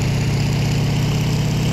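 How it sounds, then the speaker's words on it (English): A WWII aircraft engine in the flight game IL-2 runs up under throttle, a loud, steady, low droning roar with constant pulsing vibration and no voices. "Throttling up, revving up, holding my wheel brake down."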